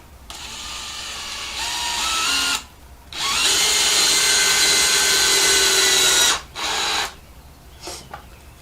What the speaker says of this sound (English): I'm going to screw in the middle one first.